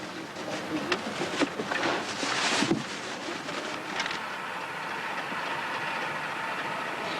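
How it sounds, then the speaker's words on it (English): A train carrying boxed fruit on St Lucia rumbles along the tracks with rattling and clattering at first, then settles into a steady rolling hum, with wind noise on the microphone. "the boxed fruit is carried by train."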